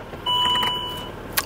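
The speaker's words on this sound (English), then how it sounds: "I'm just going to try and sit here for a bit at idle" A Land Rover Discovery 3 sits idling, its faint steady hum heard up close beneath a couple of thin electronic beep tones and a light click at the end.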